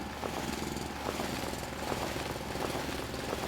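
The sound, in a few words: drilling out rock by hand in video game Foundry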